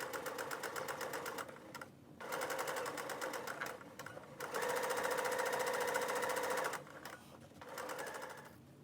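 A sewing machine stitches around a circle of fabric for a flower pouch, running in loud, steady bursts separated by short pauses, with one longer continuous run in the middle.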